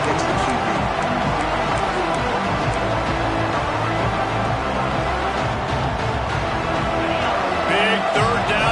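Stadium crowd noise from the NCAA 26 college football video game forms a continuous roar beneath steady play-by-play commentary, with the crowd swelling slightly toward the end.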